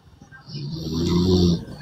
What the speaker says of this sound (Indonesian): Ngorok juga dia.